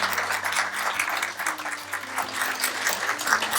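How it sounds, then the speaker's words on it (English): Wedding guests applaud in a continuous dense wash of clapping, loud and steady for the whole stretch, with a low hum running underneath. "Let's give Sam a round of applause."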